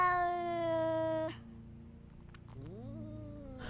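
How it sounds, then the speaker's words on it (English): A distressed cat gives a long, sustained, high-pitched meow, falls briefly quiet, then lets out a second rising, whining meow, close and fairly clear with no talking. "the noise that cats make when they're like that is like, it's like really cute"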